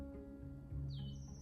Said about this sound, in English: and you could hear the birds chirping.